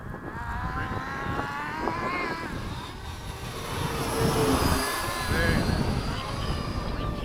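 An Eflite 80mm F-4 RC electric ducted-fan jet whines overhead in flight as the throttle is eased back, a steady rushing tone shifting in pitch, with people talking nearby.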